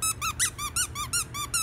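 A squeaky dog toy is squeezed repeatedly, about eight sharp, high, whistling squeaks in a quick steady rhythm, loud and close with no talking.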